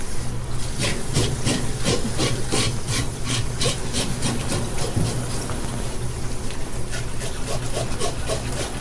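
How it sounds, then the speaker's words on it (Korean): A fish scaler rasps rapidly and continuously across salmon skin under running water, giving a dense rhythmic scratching that stays loud and close throughout. "언제나 그렇듯이 연어 비늘 벗기는 소리는 시원하죠?"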